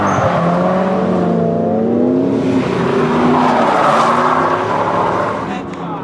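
A drift car runs continuously and loud, its engine droning and wavering with tire squeal as it slides, while people's voices mix in underneath.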